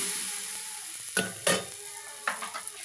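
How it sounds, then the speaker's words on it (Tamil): A dosa sizzling on a hot pan, a steady frying hiss broken by a few sharp scraping knocks as the spatula lifts and flips it, close and clear with no talking. "வாங்க தோசையை திருப்பி போட்டுடலாம்"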